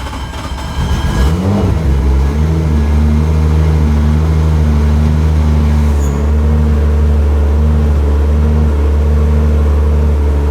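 A 1000hp A90 Toyota Supra engine catches with a loud start and settles into a steady, throbbing idle, close and sustained, with no talking over it.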